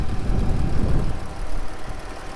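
A 2017 RAM Promaster 2500 high-roof cargo van engine idles close by with a steady low rumble and a faint uneven knock, holding level throughout with no other sounds.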